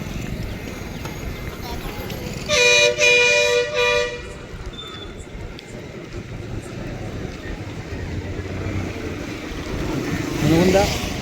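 A Mangaluru-bound bus pulls into the new Gadag bus stand, sounding a loud, bright horn blast of about a second, over a steady wash of station crowd noise and distant engines.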